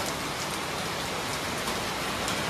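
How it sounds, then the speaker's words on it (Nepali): Heavy rain pours down steadily outdoors, a dense, loud, unbroken hiss of drops hitting surfaces with no pauses. "कत्रो डरलाग्दो पानी पर्नु थाल्यो डल्लै भिजे हामी"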